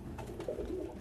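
Meat pigeons on a pigeon farm give soft, low coos, a short close rolling call over a muffled background murmur.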